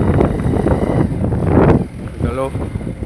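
Wind rushes and buffets the microphone on a moving motorcycle carrying three riders, a loud, constant roar close by, with a person talking over it.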